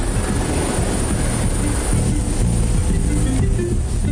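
A helicopter transporting a patient, its loud, continuous rotor and engine drone filling the whole recording with a steady beating hum.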